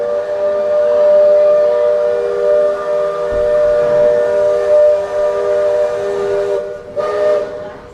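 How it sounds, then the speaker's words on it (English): The steam whistle of the Liberty Belle riverboat at Magic Kingdom's Tom Sawyer Island sounds a long, loud, sustained chord-like blast that holds for several seconds, then breaks off and briefly resumes near the end. "You heard the steam whistle."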